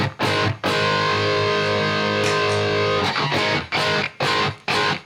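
A heavily distorted electric guitar through a modeling amp, delay and reverb off, plays dry, tight chords with abrupt stops and short chugging bursts, no lingering echo after each cut.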